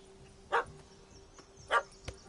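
A dog in the video game Witcher 3 gives two short, sharp barks about a second apart, moderately near, over a quiet background.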